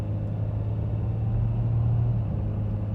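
A 2012 Dodge Caravan with 174,000 miles and a replaced valve body, heard from inside while driving: a steady low engine and road rumble with no distinct shift event standing out.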